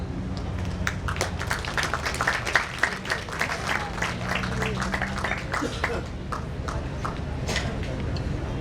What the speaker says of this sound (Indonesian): Boleh sekali lagi minta tepuk tangan yang meriah untuk Bapak Asmujo.